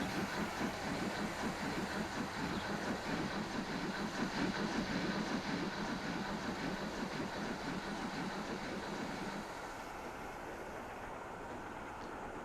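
Passenger train in the Transport Fever 2 game running on a new line, a steady rumbling engine and rail clatter at constant loudness that eases slightly toward the end, with no talking.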